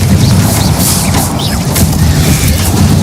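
The Confringo blasting spell in Hogwarts Legacy sets off dense, booming explosions that run continuously and loudly through the moment, with no talking.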